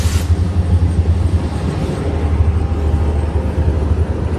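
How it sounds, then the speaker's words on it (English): A train rumbles past nearby, a deep continuous roar with a steady low drone and rattling noise throughout. "Sorry guys, we got the train coming right here."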